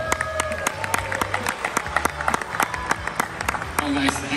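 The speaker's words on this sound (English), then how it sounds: "let's actually welcome Mr. CZ with a warm round of applause" Conference audience at a 2022 blockchain event in Dubai applauds as a guest is welcomed, with sharp separate claps over a crowd murmur and voices talking alongside the clapping.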